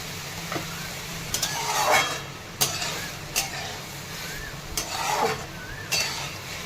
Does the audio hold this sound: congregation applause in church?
no